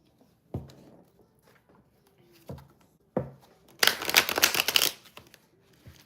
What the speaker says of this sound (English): Oh, I already shuffled them.